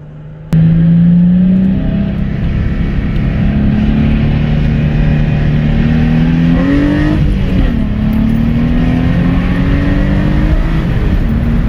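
A sports car engine drones loudly from the cabin, its pitch stepping up and down as the driver shifts and blips the throttle to match revs, over constant road noise and with no talking.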